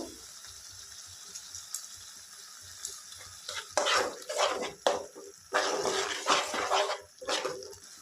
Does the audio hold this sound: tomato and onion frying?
yes